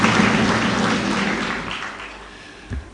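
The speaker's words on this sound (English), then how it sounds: "Please let us give them a round of applause." An audience at a formal event applauds the protocol team, a dense, fairly loud patter of clapping that gradually thins and fades over three seconds, with a faint voice near the end.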